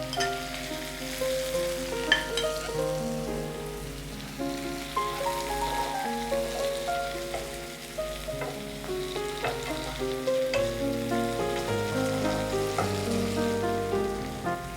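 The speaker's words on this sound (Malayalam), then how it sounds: "നമുക്കതിലേക്ക് നേരത്തെ ഫ്രൈ ചെയ്ത് വെച്ചിരിക്കുന്ന പ്രോൺസ് ഇട്ട്" Fried prawns sauté in a pan for prawn molly, sizzling steadily with stirring scrapes and clinks over a continuous frying hiss.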